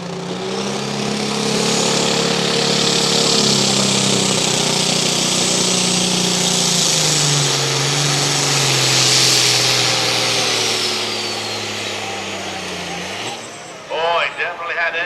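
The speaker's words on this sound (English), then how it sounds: "it's almost like one piston, one cylinder just isn't hitting anymore" A competition pulling tractor at a truck and tractor pull roars loud and steady for about thirteen seconds, its engine misfiring as if one cylinder has stopped firing, then cuts off abruptly, leaving brief scattered noise at the end.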